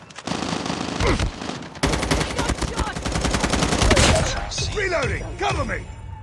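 Rapid automatic gunfire from the mobile video game Call of Duty Mobile, with dense bursts of shots running almost continuously, loud and close, with brief pauses and a voice talking in the clip.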